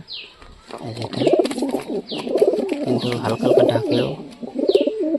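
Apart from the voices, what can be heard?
pigeons cooing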